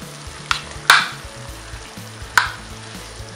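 Chopped tomatoes go into a frying onion and ginger-garlic masala for dry egg masala, with a low steady sizzle and three sharp metallic spoon knocks against the pan, close and clear.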